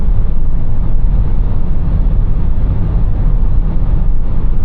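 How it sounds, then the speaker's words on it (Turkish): Loud, constant wind roar buffets the microphone while a Ford Courier 1.0 EcoBoost drives at speed, a heavy low rumble with no voices and no letup. "Evet bu hızlarda gayet rüzgar sesi alıyorum."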